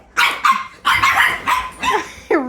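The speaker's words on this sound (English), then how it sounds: "they're barking at you" Boston Terrier puppies bark in a quick series of sharp, high yips, loud and close, with short gaps between them.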